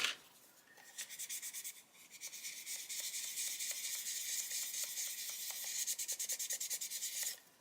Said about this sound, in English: we do need to keep sanding that away